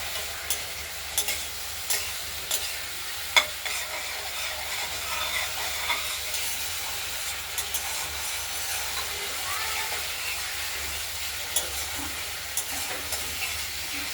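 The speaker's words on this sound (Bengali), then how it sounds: "মশলাটা কষানো হচ্ছে" Spice paste for a rohu fish curry with potato and tomato is stir-fried in a pan. A soft, continuous sizzle runs under repeated light scrapes and taps of a spatula, fairly quiet and close.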